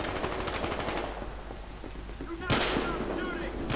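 Rapid bursts of gunfire in Battlefield Hardline's Heist mode rattle close by, followed by a sharp loud blast, all under a continuous noisy background.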